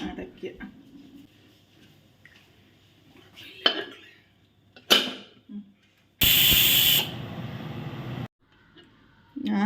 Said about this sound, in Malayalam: പ്രഷർ കുക്കർ ഒന്ന് അടച്ചു വയ്ക്കാം